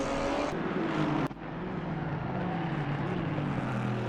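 An NPG Racing #777 BMW GT4 race car in a racing video game pulls out of its garage onto the Red Bull Ring track, its engine holding a steady, droning hum with a short thump early on.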